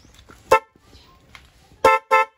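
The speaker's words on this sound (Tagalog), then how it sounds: "Ito yung busina natin. Pagka nilagay natin to sa tutunog na siya." A stock car horn, just wired up, sounds in three short honks: one single toot, then a quick pair, each loud and clear over quiet surroundings.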